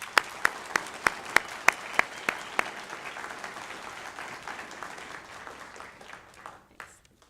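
An audience applauds to welcome guest speaker Tony Maas at an evening entrepreneur speaker event, opening with a few loud individual claps before a steady moderate round of clapping fills the room and then tapers off.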